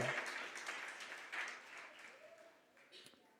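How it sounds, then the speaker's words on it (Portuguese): A church congregation claps in praise to the Lord, a quiet, fairly even patter of many hands that slowly thins toward the end, with some voices mixed in. "Você pode aplaudir o Senhor?"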